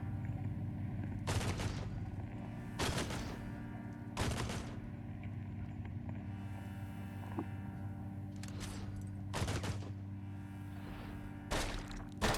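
A rocket turret fires repeatedly in Caves of Qud, about seven sharp bursts at irregular intervals over a steady humming background drone.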